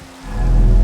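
Rain falling in Minecraft, a soft patter that swells quickly into a steady, close hiss of drops on a surface within a second.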